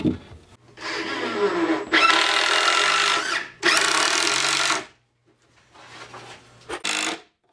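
A power drill drives screws into a roughly 12-inch-wide board on a heavy-duty sawhorse, the motor whining loudly and close in several sustained bursts separated by short pauses.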